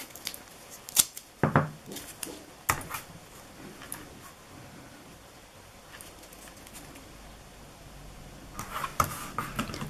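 Craft stencil tape pulled from a roll and pressed onto a stencil over card, giving a few close, sharp tearing and crinkling bursts near the start and again at the end, with quieter handling between.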